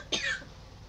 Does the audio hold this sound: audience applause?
no